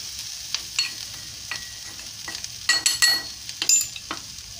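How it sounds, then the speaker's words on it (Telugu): Broad beans (chikkudukaya) fry in a pan with a steady close sizzle, broken by several clinks and scrapes as a spoon stirs them, no talking. "చూడండి ఇలా వేయించుకోవాలి."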